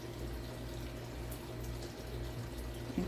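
Water runs steadily from a tap while containers from a worm bin are rinsed out, a soft, continuous, fairly faint stream without talk.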